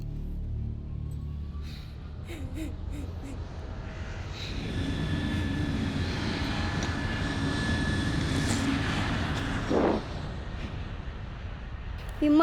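An airplane passes overhead, a steady droning engine roar that swells gradually and lingers, with a few faint background noises and a brief thump near the end.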